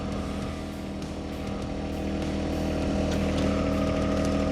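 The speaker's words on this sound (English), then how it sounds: "now we're going to move the backhoe arm back up" A backhoe's diesel engine labors steadily with a deep rumble and hydraulic whine as the backhoe arm is raised, loud and continuous throughout without any speech.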